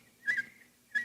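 A person whistles in imitation of a nightingale's song, two short bright warbling bursts separated by a brief pause, fairly close and alone.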